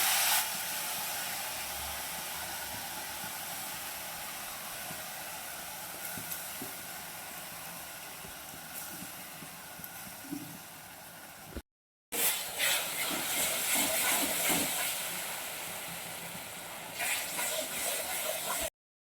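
A wet spice paste of cashew, poppy seed, tomato and ginger hisses and sizzles in a frying pan for masala paneer. The steam hiss is steady, then after a brief cut the sizzle returns louder with stirring, and no one talks.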